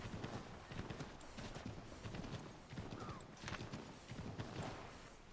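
Rapid, rhythmic hoofbeats of a galloping horse in the video game Assassin's Creed III pound steadily and close, with a faint whinny mixed in.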